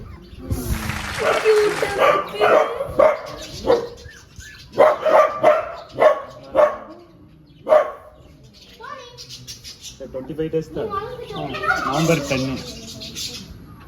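Puppies at a Munnar resort give a run of sharp, close barks in quick bursts, followed by softer yips, with people talking toward the end.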